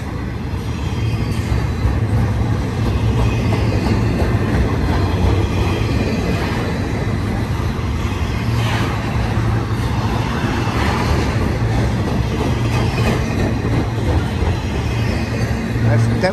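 An eastbound BNSF freight train hauling stacked containers in well cars and piggyback cars rolls past nearby, with a continuous heavy rumble of wheels and rail clatter, loud and sustained from start to finish.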